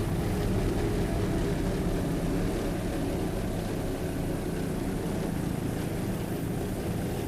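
A racing boat powered by two Mercury 500-horsepower inboard engines roars steadily at speed, a dense continuous drone with rushing water and wind noise, close and loud with no voices.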